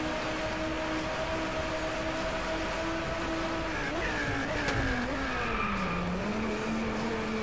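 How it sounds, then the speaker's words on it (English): Car engine whining through a downshift in the Driveclub racing game, a steady loud drone that drops in pitch partway through, with a touch of tire noise. "That was a weird noise on downshift."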